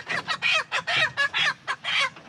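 Black Copper Maran chickens cluck up close in a rapid string of short, loud bursts with brief gaps between them, no talking.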